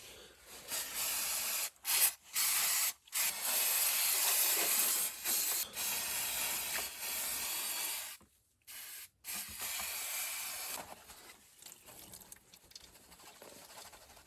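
A heated parts washer sprays fluid over oily BMW E46 engine parts, a loud steady hissing spray broken by several brief stops, fading to a softer hiss near the end.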